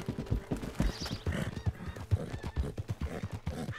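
Horse hooves clop in an irregular, fairly quick rhythm in Red Dead Redemption roleplay, close and moderately loud, with a faint whinny-like cry mixed in.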